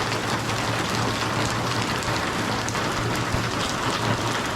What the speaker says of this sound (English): it's not gonna stop raining today. I mean, it's gonna rain the whole night